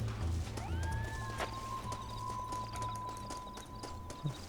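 A horse in the Western video game Red Dead Redemption whinnies with a rising, wavering cry, followed by a long tonal call over soft hoof clip-clop and low background rumble.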